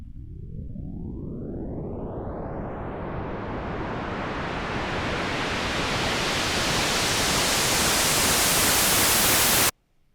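Broadband synth noise effect with a filter sweeping open, starting dull and low then growing steadily brighter and louder over about ten seconds, with a faint rising whistle near its start, before cutting off abruptly.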